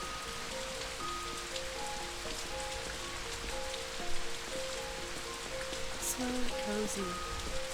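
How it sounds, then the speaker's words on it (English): Rain falling with dense, continuous patter of raindrops on surfaces, steady and moderately loud, with faint tonal music in the background. "I want to hear the raindrops falling around you."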